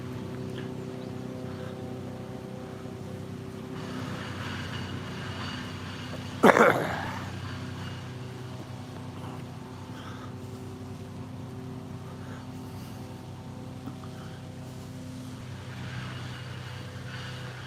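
A shredder runs outdoors in the Lancashire countryside near a waterfall, its steady mechanical drone humming at a distance throughout, with one brief sharp clatter partway through.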